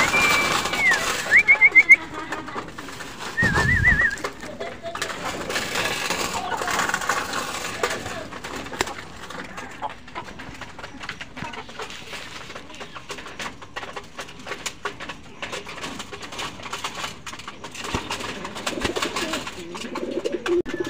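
Racing pigeons coo steadily at close range while being fed before a club training flight. A few whistle-like tones and a brief thump come early, and soft rustling and pecking continue underneath.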